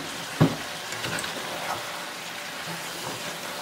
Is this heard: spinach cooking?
yes